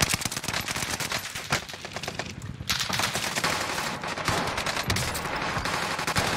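Owen submachine gun firing in a shooter video game, dense rapid bursts of automatic fire rattling almost continuously, loud and close, with other battle noise blending in.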